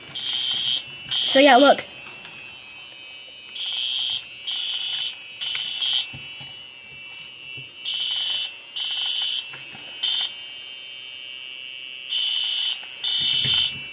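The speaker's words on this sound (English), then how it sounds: "This game is called School with Fire Alarms" A fire alarm in the video game School with Fire Alarms blares in repeated on-off bursts of a steady high electronic tone, continuing through the clip while a person talks briefly over it.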